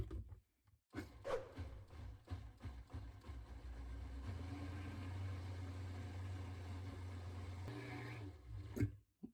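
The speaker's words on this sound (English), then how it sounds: "And then onto the blender and blend." A kitchen blender whirs through tzatziki sauce with a steady low motor drone, broken by brief stops and restarts, close by and alone.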